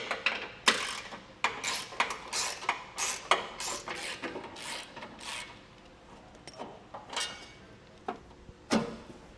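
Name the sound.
ratchet with 10mm socket removing bumper reinforcement bolts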